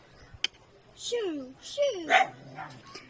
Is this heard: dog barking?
yes